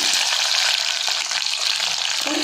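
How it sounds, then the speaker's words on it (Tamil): Garlic and small onions frying in hot oil for a Sundakai vathal kuzhambu, a loud, steady, dense sizzle crackling continuously throughout with no voice. "இப்போ நம்ம வெள்ளைப்பூடு சேர்த்துக்கலாம் சின்ன வெங்காயத்தையும் சேர்த்து போட்டுக்கலாம்"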